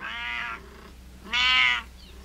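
A house cat meows twice, loud and close, two drawn-out cries separated by a short pause.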